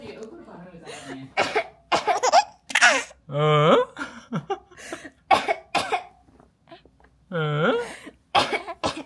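A woman gives a string of loud, close coughs, some sounding deliberate and theatrical, between short vocal sounds and a baby's reactions.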